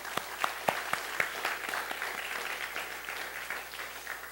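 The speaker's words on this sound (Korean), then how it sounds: "그래서 우리 축하한다는 의미 박수로 격려하겠습니다." Applause at a church service congratulating graduates: scattered sharp claps at first, then a steady, moderately distant round of clapping from a small congregation.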